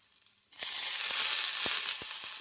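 Green chillies frying in hot oil in a pan: after half a second of near quiet, a loud, steady sizzle bursts in and holds, with a few faint pops and no voices.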